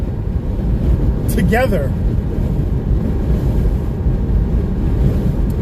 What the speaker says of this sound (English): I don't know how much of that wind noise you guys can hear